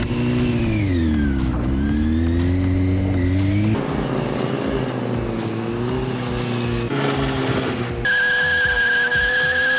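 A pink Kawasaki 636 motorcycle drifts with its engine revving and whining in changing pitch while the tires squeal and skid, loud and close throughout.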